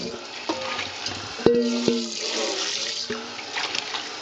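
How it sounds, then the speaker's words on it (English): Water with lentils is poured from a bowl down a kitchen sink drain, a running splash with a few sharp clinks of the bowl against the sink and brief background murmur. "I'm going to pour out some of this water down the drain"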